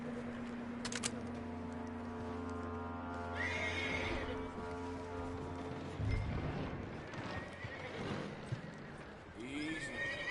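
A video game horse whinnies loudly over clip-clopping hooves and a sustained musical backdrop, with a voice briefly heard.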